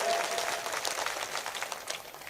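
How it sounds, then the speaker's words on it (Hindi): Loud, sustained applause from an audience at a poetry recital fills the whole moment as a dense, steady wash of clapping with no break. "अगर आप संजीदगी के साथ मुझे एक बार जोरदार ताली बजा"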